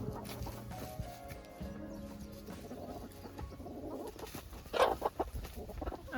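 Hens on a farm cluck and murmur steadily in the background, with a louder burst of squawking near the end over a busy yard ambience.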